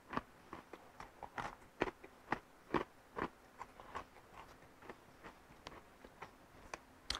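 Crunchy Italian snack being chewed, a steady series of sharp, close crunching bites repeating every half second or so, with no talking.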